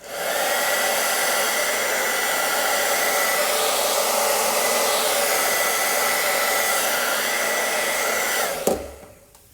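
A hair dryer running on a cool, slow setting with no heat blows a loud, steady whirring hiss up close for several seconds before clicking off abruptly near the end.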